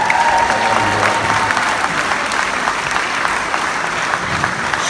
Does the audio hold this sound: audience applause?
yes